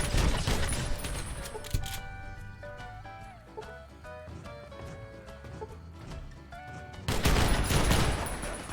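Loud bursts of video-game gunfire open and close the stretch, with quieter tonal game sounds filling the gap between volleys; no one talks.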